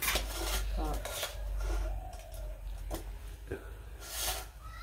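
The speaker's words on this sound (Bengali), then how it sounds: "তো ভাত বাড়া শুরু করে দিছে" Rice is served onto plates with soft, quiet clinks and scrapes of dishes and a serving spoon, short irregular knocks spread through a home kitchen meal of gourd fry and vegetable curry.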